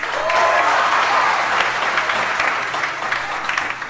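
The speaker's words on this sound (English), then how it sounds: "can you do me a favor and can you add some applause?" Dense crowd applause inserted as an edited sound effect, loud and continuous from start to finish and slowly thinning toward the end.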